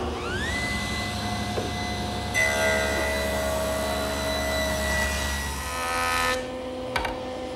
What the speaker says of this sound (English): now I'm going to rip 3 more pieces 2 1/8 inches wide